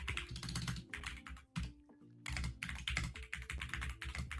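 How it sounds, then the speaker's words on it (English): Rapid computer keyboard typing, loud and close, with dense irregular clatter of keystrokes and a short pause midway before the typing resumes. "I mean, I was typing."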